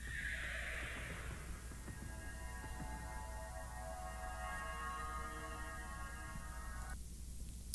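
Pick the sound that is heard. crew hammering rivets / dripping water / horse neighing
horse neighing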